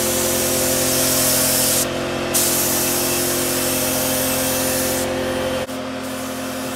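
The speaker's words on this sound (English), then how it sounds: "we're throwing the first coat on the rear lip right now" Spray gun laying a first coat of paint on the rear lip of a Lexus SC300 body kit, a loud continuous hiss with short pauses, steady and close.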